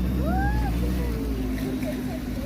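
A steady low engine drone from a cruise boat as the ride begins on a lake, continuous and fairly loud, with faint voices and a brief higher whistling tone over it.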